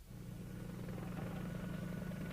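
Apache attack helicopters drone steadily over a desert battlefield, a continuous low rotor rumble with a faint pulsing beat, distant and even in level with no talk.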